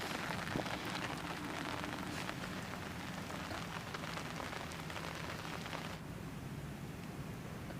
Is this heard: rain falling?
yes